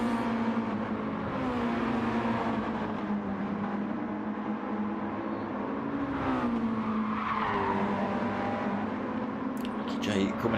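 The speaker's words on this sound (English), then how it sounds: "Coming in there hot, tyres squealing." Racing cars in a Mazda Challenge round squeal their tyres while entering a corner hot, engines droning steadily throughout, with a commentator talking over the action.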